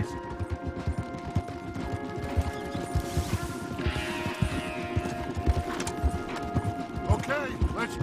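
Horses' hooves clip-clop steadily in the Red Dead Redemption 2 video game, several animals walking on a path under rustling game ambience, with a brief whinny-like noise and soft background music tones.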